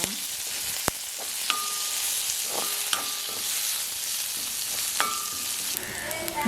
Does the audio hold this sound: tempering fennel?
yes